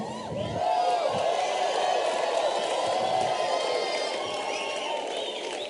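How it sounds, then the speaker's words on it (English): An audience cheers and whoops loudly for several seconds, a dense sustained wall of raised voices that swells quickly and holds steady. "why do you think these people were cheering for you like that?"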